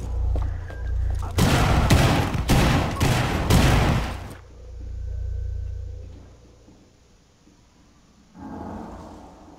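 In Rainbow Six Siege, a Fuse cluster charge at a window sets off a rapid string of loud explosions and gunfire that lasts about three seconds, followed by quieter rumbling and another burst of noise.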